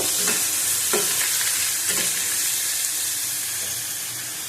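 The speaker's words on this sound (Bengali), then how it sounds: "ভেজে নেব" Cloves and cardamom frying in hot oil in a pan, a loud continuous hiss and sizzle broken by a few light spoon taps against the pan.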